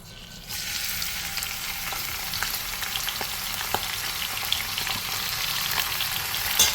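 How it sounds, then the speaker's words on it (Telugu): Nalleru (veldt grape) stalks fry in hot oil, a close, steady crackling sizzle that holds evenly throughout with small pops, no voices. "ఆయిల్ బాగా హీట్ అయిన తర్వాత మనం ఈ నల్లేరు కాడల్ని ఆయిల్లో వేసేసుకొని బాగా అవి వాడిపోయేలాగా వేయించుకోవాలన్నమాట"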